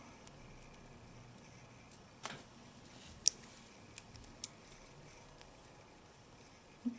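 Snips cut chainmail rings from a coiled wire, giving a few sharp, faint clicks spaced irregularly over a quiet background, with no voices.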